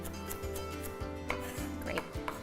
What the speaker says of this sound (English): you do a lot of chopping